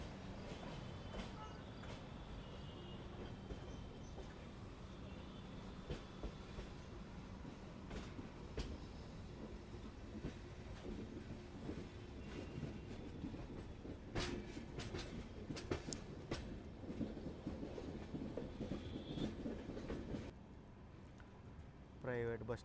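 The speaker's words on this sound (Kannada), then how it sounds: "ಭಾಳ ಸ್ಲೋ ರನ್ ಐತ್ರಿ ಗಾಡಿದು, ಭಾಳ ಅಂದ್ರೆ ಭಾಳ." The Mysore–Varanasi express rolls slowly along, with a low carriage rumble, intermittent wheel clatter and rattles, and a person talking over the steady noise throughout.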